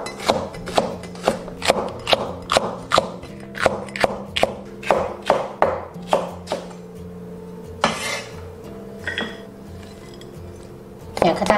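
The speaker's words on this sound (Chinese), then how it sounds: "准备三个螺丝椒，斜刀切断" Knife chopping screw peppers diagonally on a cutting board, about fifteen sharp, evenly spaced chops in a steady rhythm, close and crisp, followed by a few scraping and clinking kitchen sounds.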